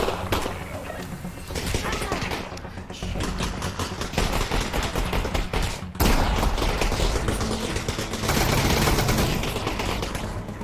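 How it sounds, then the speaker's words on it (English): Dense, sustained gunfire and rapid shots in Half-Life: Alyx crackle loudly and near for the whole stretch, with short bursts and impacts that may include ricochets, and a brief lull around the midpoint before the firing resumes. "Are the bullets ricocheting or some shit?"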